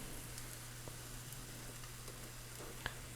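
French toast fries in a pan with a faint, steady sizzle and a low hum beneath, broken by a few small crackles and one sharp pop near the end.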